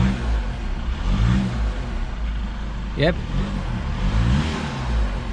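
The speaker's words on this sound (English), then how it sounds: "I can definitely hear a turbo whistle there" Revving 2016 Skoda Octavia engine with a brief rising turbo whistle sweeping up for about half a second in the middle, over a steady engine rumble, with someone speaking briefly.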